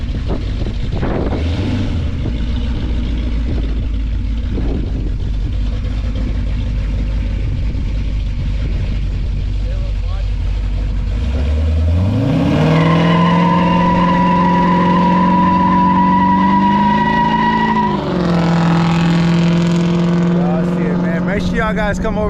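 Car burnout: engine rumbling low then revving hard and climbing to a sustained high-pitched roar with tire squeal, loud and close, dipping briefly before revving again, with speech in the background.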